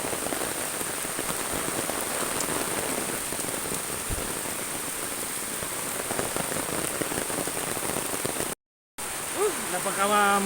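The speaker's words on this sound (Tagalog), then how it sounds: "Lakas ng ulan." Heavy rain pours down near the sea, a loud steady rush of drops striking surfaces close by, unbroken for most of the stretch before a short gap and faint sounds at the end.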